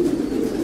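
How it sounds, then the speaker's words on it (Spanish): Pigeons cooing in a racing pigeon loft, a steady low throaty murmur running through the short moment with no pauses or talk. "Sí, son muy buenas palomas."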